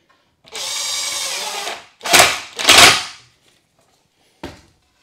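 A power drill drives screws while a tiny house is put together: one long whirring burst, then two shorter rising revs and a brief final zip, loud and close, with no talk.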